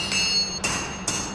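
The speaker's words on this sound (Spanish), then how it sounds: "A golpe de martillo, la vara de acero incandescente se moldea." Hammer blows shape a red-hot steel rod into a sword blade, three metallic strikes roughly half a second apart with ringing overtones, heard over a dense, noisy background with no talking.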